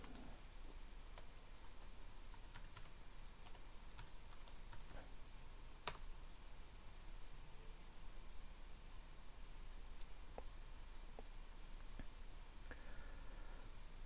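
A computer keyboard is typed on at a login screen, with quiet, irregular clicks and ticks over a soft hiss, recorded close but at low volume with no talk.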